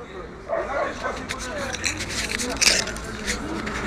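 A dog at an outdoor market gives scattered barks and yips amid a noisy, busy background of people talking.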